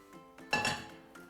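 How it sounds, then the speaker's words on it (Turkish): A metal frying pan clanks once onto a stovetop, a brief ringing clatter amid faint background sounds. "tavayı ocağın üstüne koyuyorum"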